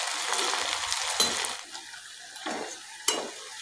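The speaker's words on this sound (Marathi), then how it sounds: "हे फ्राईज आपल्याला चांगला लालसर रंग येईपर्यंत तळून घ्यायचे आहेत" Sabudana fries bubble and sizzle in hot oil, a steady broadband crackle with a few sharper spatters and light utensil touches, close and alone with no talking.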